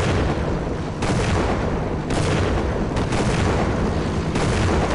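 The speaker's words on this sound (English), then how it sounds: "Why is there an explosion?" A grenade blast in the video game Half-Life, a dense roaring rumble with several sharp bursts about a second apart, loud and continuous with no voices.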